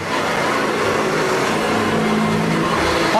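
Vintage Hoover vacuum cleaner running with a loud, steady roar close by, a dense broadband motor drone that holds constant throughout with no voices.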